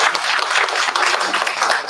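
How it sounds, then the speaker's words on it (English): An audience at a direct selling expo panel session claps together in a dense, steady round of applause, continuous and fairly loud throughout, with no voices on top. "Huge round of applause"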